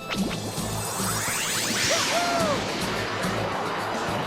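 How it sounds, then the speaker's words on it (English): A rushing whoosh of flight from the Wii game Rodea the Sky Soldier, a steady airy sweep that swells and falls over a continuous bed of game sound. "it'd be nice if you shut up with your whooshing, Rodea, so I could actually hear that"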